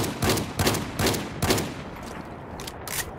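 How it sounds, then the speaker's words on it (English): An M1014 shotgun fires in Battlefield 4, a series of about five to seven loud booming shots in quick rhythm, the later ones quieter and more distant-sounding. "this is the M1014, long ranges. Hit him pretty much every single time, and there's practically no recoil."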